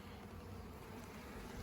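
Honeybees buzz in a dense, steady drone during a spring inspection of a top bar hive, close and continuous with no pauses.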